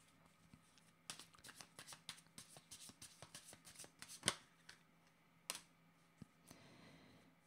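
Tarot cards shuffled and handled during a reading, giving quiet, irregular papery riffles and taps with a few sharper snaps, close by and low in level, with no voices.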